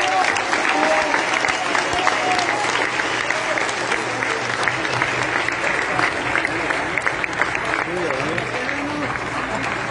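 A crowd at a convention in Puerto Vallarta applauds steadily for ten seconds, dense continuous clapping with voices and cheers mixed in.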